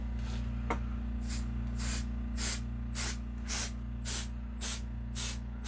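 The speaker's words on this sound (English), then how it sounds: "I do need to do a spray release on these straps" Mold release sprayed onto straps before fiberglass layup, nine or ten short hissing spray bursts in a steady rhythm over a constant low machine hum.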